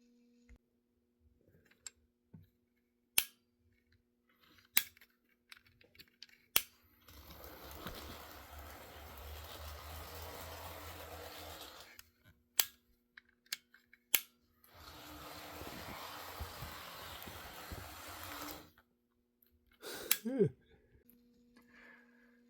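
Modified Lionel HO-scale GP9 model locomotive running on track, two sustained stretches of quiet motor whir and rolling noise separated by scattered clicks and taps, faint and close.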